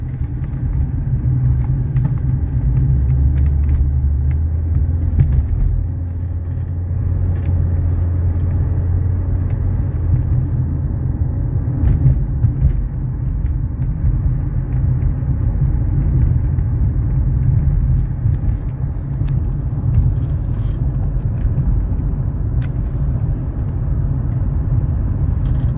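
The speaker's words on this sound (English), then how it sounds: "this inline six is plenty of power for everyday driving" A 1991 Mercedes 300SE with an inline-six engine cruises on a highway, giving a steady low rumble of engine and road noise inside the car, loud and continuous throughout.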